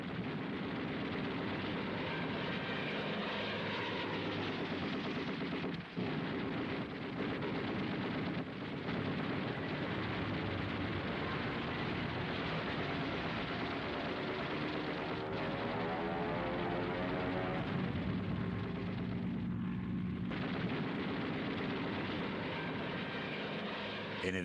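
Curtiss P-40 fighters in winter aerial combat against a swarm of Japanese aircraft: a continuous droning roar of piston aircraft engines, with shifting pitch as planes pass, heard steadily at moderate distance.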